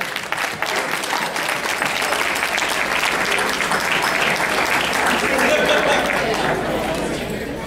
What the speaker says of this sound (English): Let's give her another big round of applause, ladies and gentlemen.